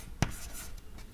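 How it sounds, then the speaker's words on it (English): Writing on a board during a lecture on solid-state physics: faint, brief scratchy strokes with a couple of sharper taps, close and quiet, with no talking. "let me write here"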